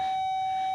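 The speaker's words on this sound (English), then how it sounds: "Why do we need the bell?" An electric school bell at Sacred Heart sounds as a steady, continuous high ring with no pause, moderately loud and alone without any voices.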